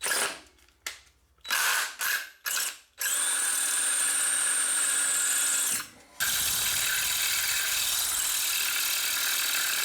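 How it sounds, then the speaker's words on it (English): A power drill with a cobalt bit whirs loudly in several short bursts, then runs steadily for seconds at a time with a brief pause, grinding into metal. "I'm having trouble drilling this last one out"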